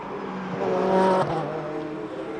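GT race cars at the Nogaro circuit, including the number 9 Ferrari, with a steady engine whine that swells to a peak as one passes near and then eases off into a continuing drone.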